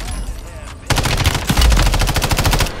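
Gunfire in a multiplayer video game shooter. After a short, quieter lead-in, loud rapid automatic fire erupts in a steady stream of evenly spaced shots that keeps going to the end, with heavier thumps mixed in.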